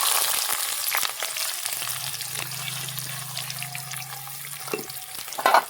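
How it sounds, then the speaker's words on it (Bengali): Chopped onions and whole cumin seeds fry in a hot pan with a steady, close sizzle, scattered with small crackles and pops and a low hum underneath. "পেঁয়াজটাকে লাল লাল করে আমি ভেজে নেব"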